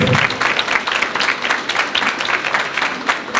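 A standing audience claps at a high school graduation ceremony for baccalaureate graduates in Senegal, producing a brisk, uneven patter of many hands that stays fairly loud and close throughout.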